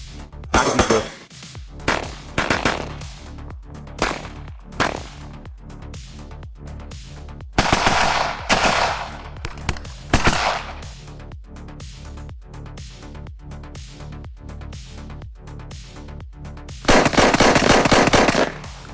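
Combat gunfire between Ukrainian and Russian forces: loud, close bursts of rapid automatic fire and single shots recur across the stretch, with dense volleys near the start, middle and end and no talk.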